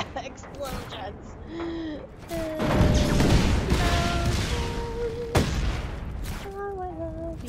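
Booming explosions and rumbling blasts from the video game Just Cause 3 fill the scene, with tonal effects and a voice exclaiming over the noise.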